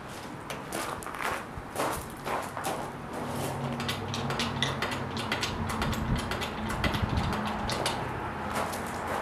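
A jack being ratcheted to lift a 22-inch Grizzly drum sander, a run of close, uneven clicks and mechanical clatter over several seconds, with shuffling footsteps and a low hum behind.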